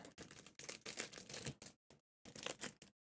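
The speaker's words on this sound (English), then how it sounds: "They're good and shuffled." Trading cards shuffled by hand for packing Pokémon-style TCG orders, a run of dense papery riffling bursts separated by short gaps, close and fairly loud with no talk.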